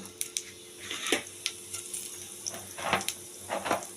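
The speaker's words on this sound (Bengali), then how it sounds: "এবার তেলে দিয়ে দেব একটু জিরে" Cumin seeds hit hot oil in a pan, giving a soft crackling sizzle with a few sharper pops and light utensil clinks, close and fairly quiet, with no talking.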